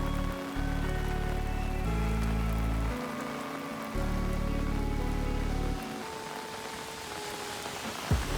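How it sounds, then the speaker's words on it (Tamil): Steady rain falls on a surface on a rainy day, a dense, continuous patter with a low rumble that shifts in level, with no voices. "என்கிட்ட இருந்த சில ரெய்னி கிளிப்ஸ் எல்லாம் ஒரு வீடியோவாக போட்டிருக்கேன்"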